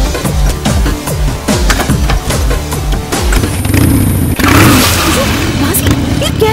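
A motorcycle revs hard before a jump, its engine growling and climbing in pitch up close amid rough, uneven bursts of noise.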